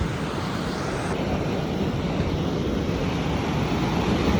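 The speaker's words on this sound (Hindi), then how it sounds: "ओ बड़ा तेज है पानी गिरा आगे" Fast water pours and rushes at a 115-year-old British-era headworks in Sarial, a loud, continuous broad roar with no pauses and no voices.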